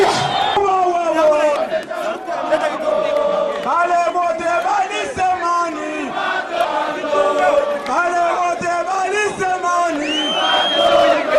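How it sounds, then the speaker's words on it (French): A crowd at a political rally roars an ovation for Étienne Tshisekedi: sustained loud cheering, whoops and bellowed shouts rise and fall continuously, dense and close, with voices merging into a steady wall of noise. "À son arrivée sur les lieux du meeting, il a été fortement ovationné."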